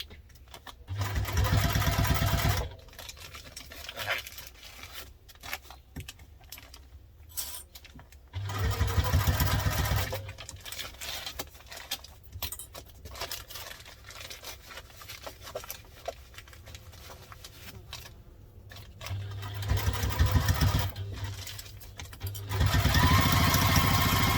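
A sewing machine stitching fabric for a lunch tote, its motor buzzing loud and close in several bursts of a few seconds each, with quiet handling of the cloth between them and no talk.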